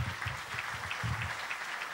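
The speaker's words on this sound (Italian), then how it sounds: "un grande applauso" A crowd claps on stage for Guido Valotti at the closing evening of Berghemfest 2013, a short burst of steady, moderately loud applause.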